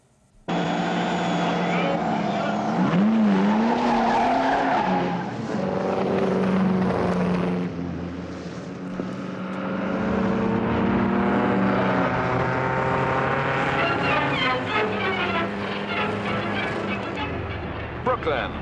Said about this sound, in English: the final meeting of an exciting season brings out the fastest of the speed cars